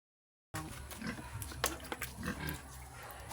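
Two pigs grunt and snort close by in short, irregular bursts, with rustling and shuffling noises around them; no one speaks.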